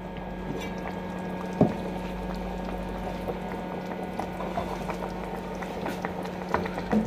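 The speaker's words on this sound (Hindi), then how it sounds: "तो अब इसको एक बॉयल आएगा तो मैं इसकी लाइट बिल्कुल कम कर दूँगी चूल्हे की" Beef trotters bubble in a pot on the stove, a continuous, soft simmering boil with faint pops and one louder clink, heard close and alone.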